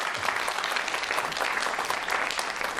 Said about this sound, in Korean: 다 같이 한번 박수 한번 쳐드려야 될 것 같아요